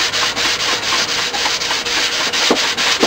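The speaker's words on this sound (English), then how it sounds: "rubbing it across the grain like so will clean it off." Rag rubbing grain filler across the grain of a wooden guitar back, a loud, close, steady rhythmic scrubbing with quick back-and-forth strokes about three per second, no talking.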